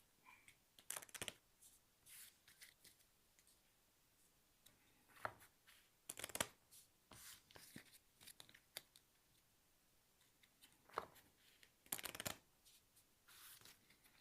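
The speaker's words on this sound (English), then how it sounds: "so I'm going to shuffle my deck" A deck of cards for the board game Stupor Mundi is shuffled in a quiet solo session, giving soft, intermittent riffling and sliding bursts spread across the stretch, faint and close.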